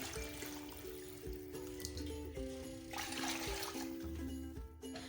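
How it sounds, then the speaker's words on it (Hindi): Water poured into chicken yakhni cooking in a pot, a continuous rushing, splashing flow for several seconds at moderate level, with a faint background hum and no talk. "इसमें मैंने पानी डालना है।"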